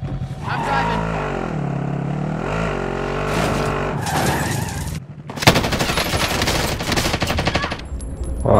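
Gameplay from a combat video game: a vehicle engine drones steadily with loud bursts of automatic gunfire, while a voice talks at times over the noise.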